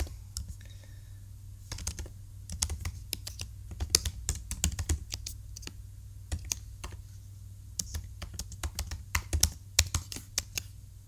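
Computer keyboard typing in irregular bursts of crisp clicks, close and moderately loud, while login details are entered on a web hosting signup page, with short pauses between runs of keystrokes and a steady low hum underneath.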